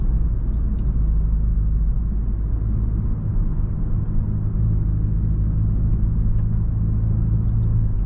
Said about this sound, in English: this is definitely the tire spinning